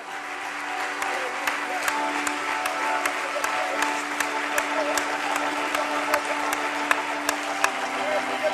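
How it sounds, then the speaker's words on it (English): A church congregation claps hands in praise, steady rhythmic claps running throughout, with music and voices underneath. "Let's clap our hands one more time."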